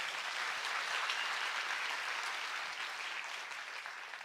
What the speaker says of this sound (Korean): 이게 강요하지 않았는데도 큰 박수 보내주셔서 감사드리고요